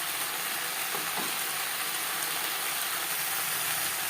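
Potato and eggplant sizzle loudly and evenly as they fry in oil on a high-to-medium flame, a dense close hiss with a brief stir just past the first second.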